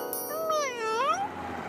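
A cartoon cat, Garfield, gives a single long, sweet, rising-and-falling meow, close and clear, followed by a faint soft chime.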